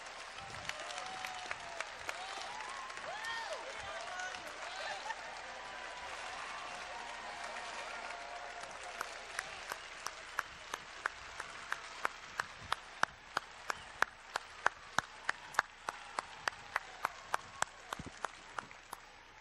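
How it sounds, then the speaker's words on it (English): An audience applauds a panel of judges at an opening session, sustained dense clapping from a sizable crowd that thins to a few scattered, distinct claps toward the end, with faint murmuring under it. "a big round of applause to say thanks to this great panel of judges"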